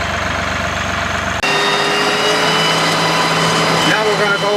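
A mower engine starts up loud and close partway through, then runs steadily with a buzzing drone while mowing an old clover food plot in July.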